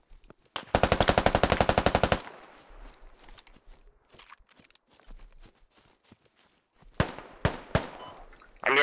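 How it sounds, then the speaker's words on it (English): Rapid automatic gunfire in a Squad 40v40 match, a dense burst of about a second and a half with a marksman rifle setting, followed by scattered lighter shots, thuds and a few sharp louder reports near the end. "I'm getting shot at."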